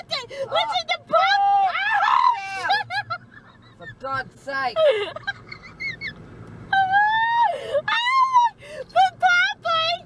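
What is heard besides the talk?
crowd of seagulls screeching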